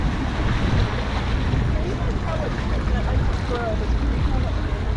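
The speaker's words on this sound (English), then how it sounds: "Looks like this is our snorkel boat right here." Wind and lapping waves surround a snorkel boat on open water at a Cayman dive site. The hull noise and surf are steady and loud, buffeted by gusty wind against the microphone.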